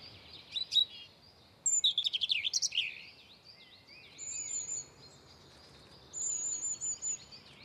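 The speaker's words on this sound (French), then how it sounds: "On entend le troglodyte." A wren sings in an urban park: bursts of rapid, high trilling song at moderate distance, with a couple of separate short phrases later. Other faint high bird calls sound alongside, and no one talks.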